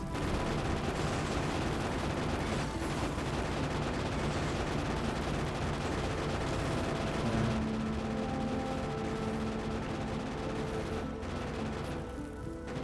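A cannon fires repeatedly in the video game Factorio on a Death World map, its booms blending into a dense, continuous barrage of gunfire and explosions that stays loud throughout.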